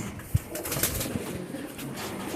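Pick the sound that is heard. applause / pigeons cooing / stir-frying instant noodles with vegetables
pigeons cooing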